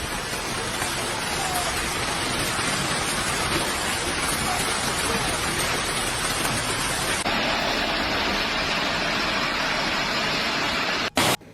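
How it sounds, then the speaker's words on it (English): Damaging hail pelting down in a dense, steady roar across the Oklahoma City area during a severe storm, loud and continuous with no voices, easing slightly partway through before a brief sharp break near the end. "This is damaging hail."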